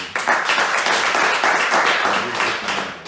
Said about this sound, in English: can you guys clap for the VP right there?